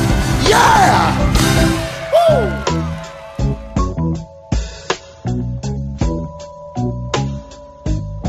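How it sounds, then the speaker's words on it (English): A concert crowd at a soul show screams and yells wildly for a couple of seconds on a count of three, then the roar breaks into bursts of clapping and scattered shouts. "I want you to scream like you crazy"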